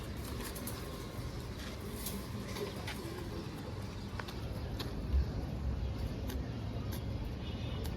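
Soft cooing of Army breed pigeons drifts over a steady hum of distant traffic, with a few brief bird calls scattered throughout.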